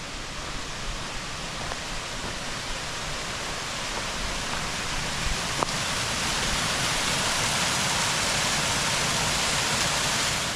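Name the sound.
small waterfall on the Turkey Path Trail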